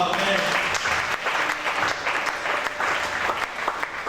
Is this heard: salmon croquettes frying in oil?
no